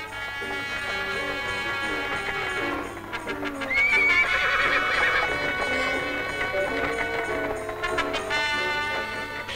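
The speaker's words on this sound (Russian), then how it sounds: "Клим, ты зачем так гонишь лошадь?" Horse hooves clip-clop at a fast pace while the horse gives loud whinnying neighs in the middle, with a musical score playing under it.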